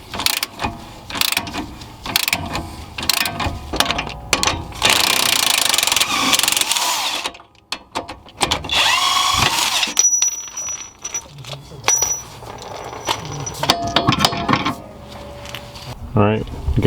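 A power tool zips off an 18 mm bolt at the bottom of a rear shock on a 2011-2019 Ford Explorer, giving repeated bursts of ratcheting, whirring and clattering with metallic clinks, close and loud throughout.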